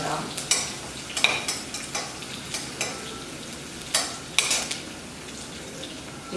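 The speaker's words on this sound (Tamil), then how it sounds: "இப்போ பெரிய வெங்காயம் பாதி வதங்கிடுச்சு." Onions sautéing in a pan for mutton gravy: a soft background sizzle with repeated clinking scrapes of a utensil stirring against the pan, up close, with no talking.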